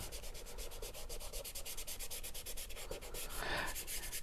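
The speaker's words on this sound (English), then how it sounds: "You're blending, you're scrumbling, you're side stroking." Chalk pastels rub and blend across paper in a steady, close, rhythmic scraping with repeated short strokes, heard alone.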